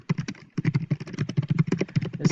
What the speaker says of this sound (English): And then I'll get typing